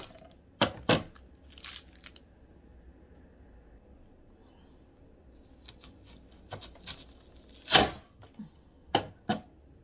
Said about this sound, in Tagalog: Ngayon magbalat tayo ng sibuyas.